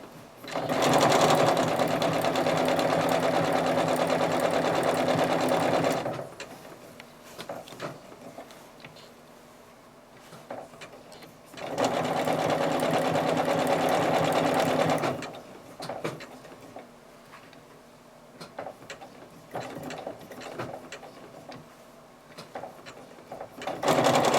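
A sewing machine running a satin stitch on a laser-cut appliqué quilt kit, in two long steady bursts of rapid whirring stitching, close and loud, separated by quieter handling pauses.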